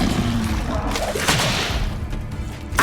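The Confringo blasting spell goes off in Hogwarts Legacy with a loud, dense whooshing burst and a couple of sharp impacts, over continuous heavy combat noise.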